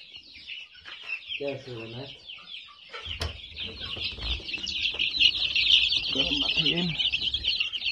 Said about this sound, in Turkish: Çok sevdiğim Hint horozlarını.